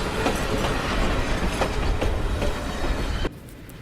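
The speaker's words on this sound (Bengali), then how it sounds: "আমাদের তিস্তা এক্সপ্রেস ট্রেনটি ছাড়লো" The Teesta Express passenger train, running Dhaka to Jamalpur, heard from inside a chair coach as it pulls away: steady loud rumbling with rhythmic clickety-clack of wheels over rail joints, dropping suddenly quieter near the end.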